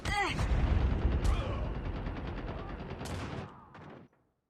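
Rapid gunfire from a COD Mobile match crackles in a dense, steady burst for about four seconds, loud and close, with a couple of sharper shots standing out before it cuts off abruptly.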